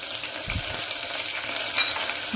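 Soaked peas fry in a pan, making a steady close sizzle with a soft stir or two, heard alone.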